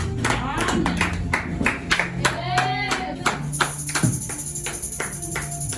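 A church congregation clapping, a run of quick close handclaps from several people, with voices talking and calling out over them.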